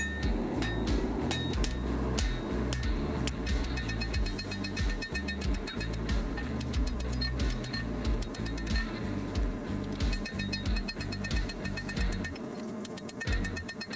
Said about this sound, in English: Use the cross peen part of our hammer to forge out the tomahawk faces or the heads